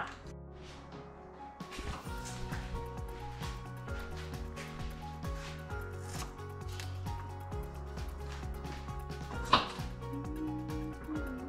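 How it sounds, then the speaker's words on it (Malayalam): Small onions, garlic and long beans being chopped on a board in a home kitchen, a long run of quick, fairly faint knife taps in an irregular rhythm, with one sharper knock near the end and no talk. "കൊച്ച് ഉള്ളി അരിയണം, വെളുത്തുള്ളി അരിയണം, അച്ചിങ്ങ അരിയണം"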